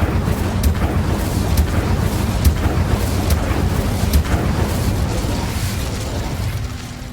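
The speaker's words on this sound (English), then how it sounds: "Incendio." A fire spell cast in the video game Hogwarts Legacy, heard as a steady roaring rush with repeated sharp bursts and pops, loud and close, with no talk.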